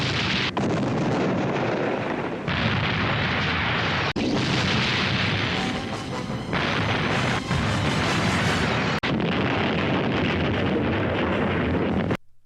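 Explosions from the film Slugs, loud booming blasts and roaring bursts in quick succession over twelve seconds, with sharp cuts between them and a rumbling, crackling wash throughout.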